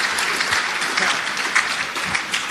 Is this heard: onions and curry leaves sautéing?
no